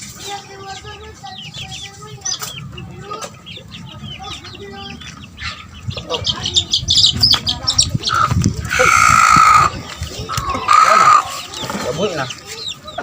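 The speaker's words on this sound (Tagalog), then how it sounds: "Ang liliksi ng mga sisiw natin mga kabuli." Hens and young chicks cluck and peep close by on a Filipino poultry farm, with busy overlapping calls that swell louder toward the end and someone speaking over them.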